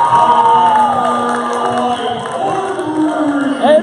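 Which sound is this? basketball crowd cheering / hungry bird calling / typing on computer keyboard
basketball crowd cheering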